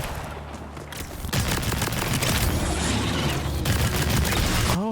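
Sustained weapon fire in a Borderlands 4 video game fight, a loud, steady stream of rapid shots over heavy rumbling battle noise, close and unbroken for several seconds.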